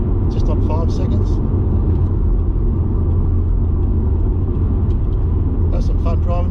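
A 2003 Subaru WRX STI engine drones steadily from inside the car while driving, a loud continuous low rumble and road roar, with brief speech-like bursts near the start and end.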